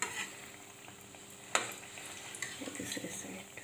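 Mirchi bhaji, chili fritters, sizzle softly in hot oil in a pan while being turned over, with a faint, steady frying hiss broken by a clink of a utensil and light scraping and bubbling.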